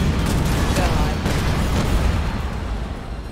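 A loud, rumbling explosion in the Dead Space Remake game, a sustained broadband roar that slowly fades over a few seconds with no talk over it.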